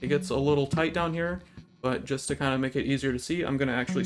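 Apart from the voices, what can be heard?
No everyday noise stands out behind the speech.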